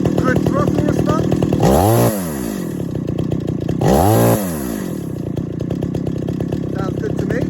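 A fully rebuilt 50-year-old chainsaw runs with a loud, steady buzzing idle, then revs sharply twice to a high scream and drops back, as someone talks over it.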